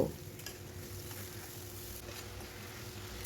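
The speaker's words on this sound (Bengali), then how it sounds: "এখন একটু নাড়াচাড়া করে মশলাটাকে কষিয়ে নেব" Spice paste with a splash of water stirred and sautéed in a pan over medium heat for a fish curry, a soft, faint, steady sizzle with light stirring, no voices.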